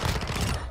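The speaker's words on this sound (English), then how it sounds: "I just shot my own teammate by accident." Dense, loud burst of gunfire in a ranked-play shooter video game, rapid shots packed together over a split second with no pause.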